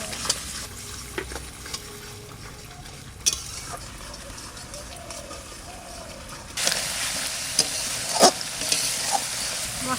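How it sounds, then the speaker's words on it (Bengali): Masala spices with turmeric and salt sautéing and being stirred in a pan for a river fish curry, a steady close sizzle with scraping stir strokes that grows louder and brighter toward the end. "মশলা কষানো হয়ে গেছে এবার জল দিয়ে"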